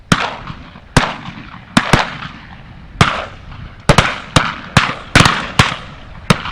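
Shotgun shots at driven mallard ducks, a string of loud sharp blasts, some singly and some in quick pairs, each trailing off in an outdoor echo, with a faint background between shots.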